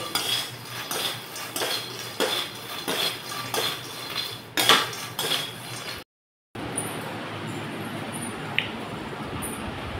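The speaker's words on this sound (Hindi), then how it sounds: "अभी मखाना भून रही हूँ खाने के लिए" Makhana (fox nuts) roasting in a pan, stirred with a utensil in a run of rhythmic metallic clinks and scrapes, then a brief silent cut and a softer, steady hiss.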